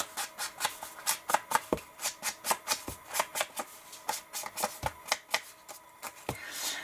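Sheets of onion-dyed paper being handled, giving a quick, rhythmic series of crisp rustles and flicks, close and fairly soft, with no talking.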